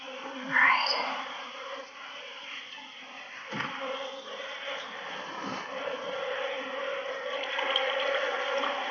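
Honey bees buzzing around an open Apimaye hive, a soft, steady hum close by with a few louder passes of individual bees drifting near, faint throughout.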